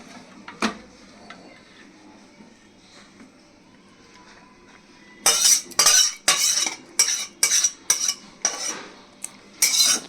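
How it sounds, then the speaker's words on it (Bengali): Cooked katla fish curry being poured and scraped from a pan into a serving dish, heard as a rapid series of close, sharp metallic clinks and scrapes in the second half after a quiet start. "এবার আমি একটা পাত্রের মধ্যে এগুলো ঢেলে তোমাদেরকে শেয়ার করছি।"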